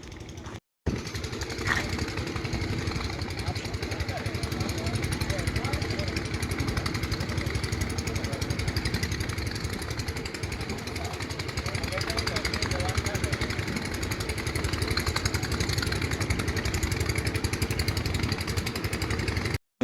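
A motor boat engine drones steadily as the boat approaches, a continuous mid-pitched chugging that stays fairly even throughout, with a person talking over it.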